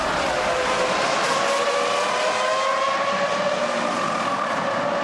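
A Ferrari Formula 1 car at speed on the Monza straight during the 2003 Italian Grand Prix, a loud, sustained high-pitched engine scream holding steady at full throttle with a slight rising pitch, continuous for the whole stretch with no talk.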